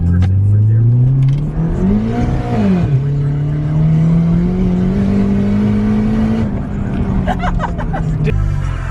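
A turbocharged automatic Acura RSX accelerating, a loud droning engine note that climbs, dips briefly, then climbs steadily again, heard from inside with faint voices in the background.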